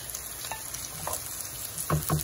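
Tomatoes, green chillies, garlic and ginger frying in a pan, giving a steady soft sizzle with a couple of louder stirring scrapes near the end.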